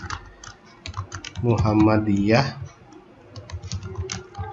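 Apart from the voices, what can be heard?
typing on a computer keyboard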